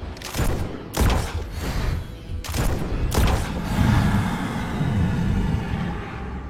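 Repeated gunfire from a class 5 gun in a video game: a few heavy, sharp bursts in the first half, followed by a rumbling, sustained stretch of shooting and impacts, loud and close.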